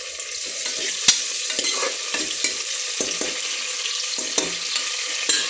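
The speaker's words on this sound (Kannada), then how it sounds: "ಹಾಗೆ 1 ಟೊಮೊಟೊ ಹಾಕಿದ್ದೀನಿ. ಅದು ಚೆನ್ನಾಗಿ ಫ್ರೈ ಆಗಿ ಸಾಫ್ಟ್ ಆಗಲಿ." Chopped tomato and onion frying in a pan for mutton sukka, a steady close sizzle with soft stirring scrapes and occasional spoon taps against the pan.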